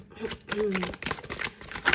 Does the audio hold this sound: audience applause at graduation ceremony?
no